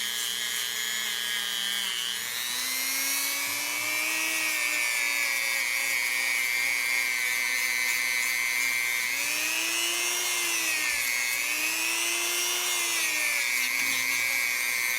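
A power tool spins a polishing stone against a silver bezel, giving a steady high whine with faint pitch shifts as the pressure changes, close and continuous with no talking.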